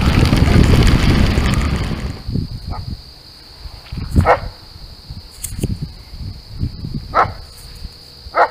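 Dogs bark intermittently in an outdoor setting, several sharp separate barks spread across the stretch after a loud rush of wind or movement fades, with a steady insect-like drone underneath.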